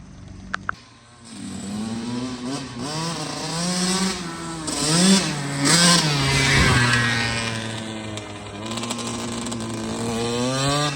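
A Kawasaki KX 85 two-stroke dirt bike revs along a driveway, its engine rising and falling through several throttle bursts, loud and close with a buzzy, raspy tone.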